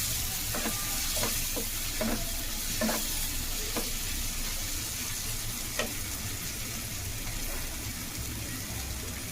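Green chilies hit hot oil in a pan of mutton ghee fry, a steady loud sizzle with a few scraping stirs and soft taps, continuous and close.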